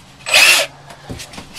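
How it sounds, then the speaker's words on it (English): A power drill drives a Phillips head wood screw into wood in one short, loud, close whirring burst, followed by faint handling knocks. "They are standard wood screws, Phillips head"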